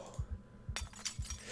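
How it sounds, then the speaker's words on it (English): Broken glass being knocked out of a window frame in Project Zomboid: a few quick rhythmic thumps with a bright glassy clink and shatter midway, fairly quiet. "Let's remove the broken glass."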